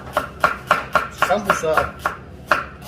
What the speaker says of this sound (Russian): Тоненько нарезаем лук